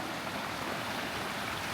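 Goose Creek rushes steadily alongside a hiking trail between Red River and Taos Ski Valley in northern New Mexico, a constant close-up wash of flowing water with no voices.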